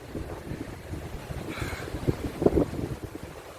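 Strong gusty wind roars and buffets the microphone in a steady low rumble by a gulf shore, with no voices.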